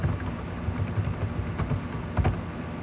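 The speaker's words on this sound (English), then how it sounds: "So I'm going to type in my email address here" Steady, fast clatter of keys on a computer keyboard as an email address is typed, close and continuous, with no talking.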